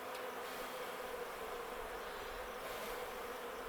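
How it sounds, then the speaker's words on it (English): Honeybees buzzing around an open hive during an apiary inspection, a dense, steady hum of many wings filling the air close by, with no talk over it. "If you blow on the bees, they don't like it."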